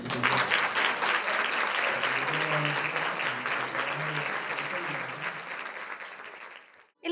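Audience applause at a staff appreciation event for administrative personnel at a university, steady dense clapping that holds for several seconds then fades out abruptly near the end.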